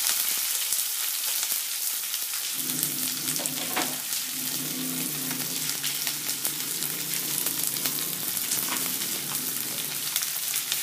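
Onions fry in a pan with whole spices, a constant bright sizzle that thickens after a couple of seconds as something drops into the hot oil.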